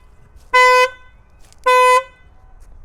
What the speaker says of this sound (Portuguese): ligar o alarme do carro